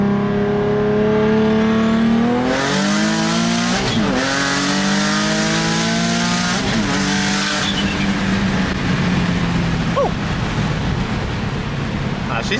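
A turbocharged car with a straight wastegate accelerates hard under boost, its loud engine note climbing steeply through successive gear pulls with brief dips at the shifts.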